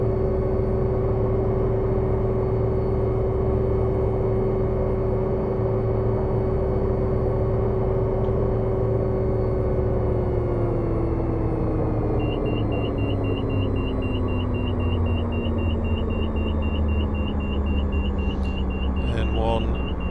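The turbine engine of an OH-6A Cayuse helicopter in Microsoft Flight Simulator drones steadily at idle, a loud continuous whine and rumble that dips in pitch midway, with faint beeping tones near the end.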